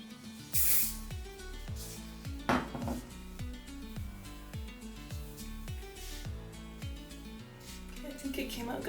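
Short bursts of hairspray hissing from an aerosol can, one near the start and another a couple of seconds later, over quiet background music.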